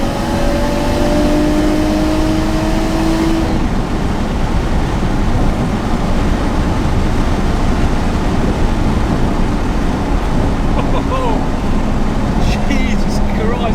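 A 910 bhp big-turbo Nissan R34 Skyline accelerating hard, heard from inside as a loud, dense engine roar with a rising tone that shifts, while excited voices talk over it.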